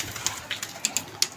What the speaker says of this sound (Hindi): अच्छा कबूतर है यार ये भी